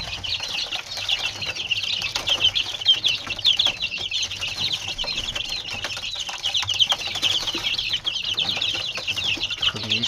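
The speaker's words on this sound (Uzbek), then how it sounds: "Mana jo'jalarning yeyishi." Chicks pecking and squabbling over crushed egg, with constant high cheeping, fluttering and scratching close by and no talking.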